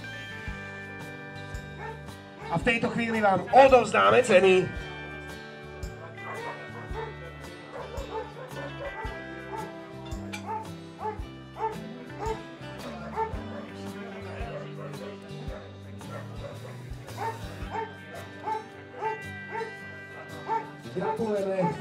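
Sled dogs at a Zuberec 2020 sled dog race award ceremony yip, whimper and bark repeatedly, loudest in a burst near the start, then scattered under an announcer speaking Slovak over a PA amid crowd noise.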